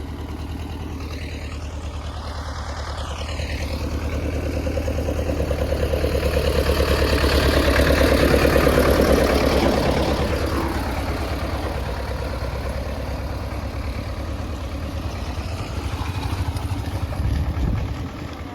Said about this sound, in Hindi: अब वहाँ ट्रैक्टर आवाज है।